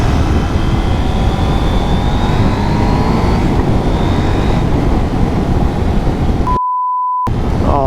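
A KTM 790 Duke motorcycle ridden on the road, its engine a loud steady drone mixed with heavy wind rush, pitch shifting slightly with throttle, briefly cutting out near the end.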